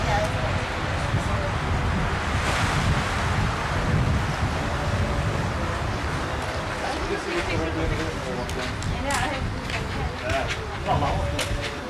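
Sea waves and gusting wind wash along a shore on a coastal trail, a steady broad rush with wind buffeting the microphone and people talking throughout.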